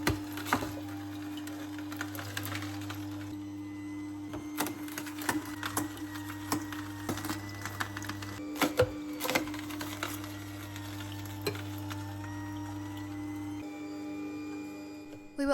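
A Ninja NeverClog cold press juicer crushes a whole carrot with a steady, low motor hum, while sharp cracks and snaps break through as the carrot is ground down.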